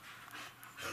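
A trained dog sits during an obedience lesson, panting in quick, breathy puffs close by for about a second, with no voices.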